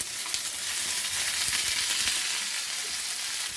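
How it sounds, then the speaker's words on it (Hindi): Chopped tomatoes sizzle and fry steadily in a hot pan for a masala dosa filling, a close, continuous crackling hiss with faint stirring, no voices. "टमाटरों को यहाँ पर हम हल्का सा भून लेंगे, इन्हें हमने सॉफ्ट करना है।"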